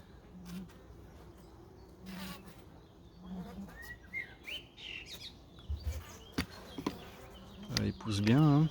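A small, calm honeybee swarm gives a soft, continuous buzz close by. Birds chirp now and then, and faint voices and handling noises rise toward the end.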